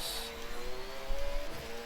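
A Porsche 911 GT3 engine in the Forza Horizon 6 racing game holds a steady, high-pitched drone at speed during a lap, continuous and fairly loud with no voices.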